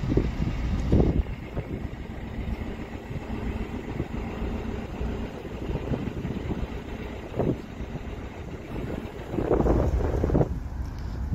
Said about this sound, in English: The wind that's swirling around here.